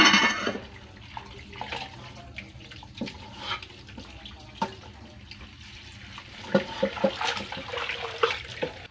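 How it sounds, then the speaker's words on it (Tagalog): Pork ribs for sinigang being rinsed under a running tap, water splashing and gurgling with irregular clatters and knocks of bones in a basin, louder bursts toward the end. "Hugasan po natin yung buto-buto po."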